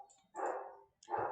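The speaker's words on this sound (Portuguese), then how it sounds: "Desculpa o cachorro latindo do vizinho" A neighbour's dog barks in two short bursts, moderately loud and somewhat distant, with a brief pause between them and no talk over it.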